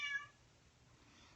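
A cat gives one short, quiet meow close by, followed by near silence.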